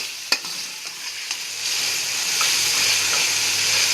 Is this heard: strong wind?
no